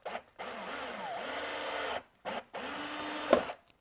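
A power drill with a 5 mm bit whirs in bursts, one long run and two shorter ones with brief pauses between, close and loud with a grinding bite near the end, drilling a motorcycle windshield.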